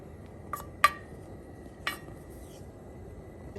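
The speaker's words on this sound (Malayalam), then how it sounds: "ഇപ്പോൾ ഒരു പാനൊക്കെ വെച്ചിട്ട് നമുക്ക് ഇത് ഓൺ ചെയ്ത്" A pan set down on the stove before cooking a methi leaf and potato curry: two or three brief metallic clinks and knocks, close and clear, in an otherwise quiet kitchen.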